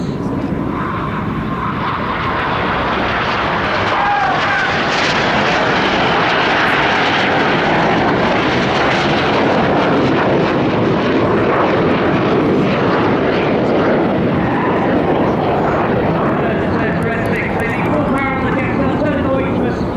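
Red Arrows jet aircraft flying barrel rolls at the 2016 Bournemouth airshow, a loud continuous engine roar that swells and rushes past, with an announcer talking over the noise throughout.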